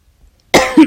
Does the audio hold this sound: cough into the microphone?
yes